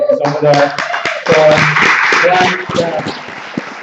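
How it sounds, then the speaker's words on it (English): Audience applause at a graduation reception, a dense patter of many hands clapping close by, mixed with a voice and other chatter over it. "let's give a big round of applause to Lauren McClanahan"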